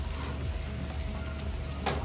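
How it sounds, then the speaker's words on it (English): A little oil sizzling on a cast iron pan with potatoes on a Weber grill, a soft, continuous crackling fry with faint pops, no talk. "You can see that little bit of oil in there that's just sizzling."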